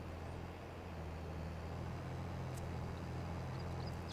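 A small tractor engine in Farming Simulator 22 straining while driving, a steady low droning hum held at a constant level throughout, faint and alone without speech.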